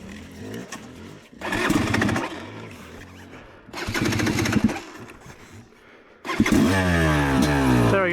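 A Yamaha YZ300 two-stroke dirt bike is electric-started with three cranking attempts, the first two sputtering briefly before cutting out, and the last firing up into a loud, revving idle close by.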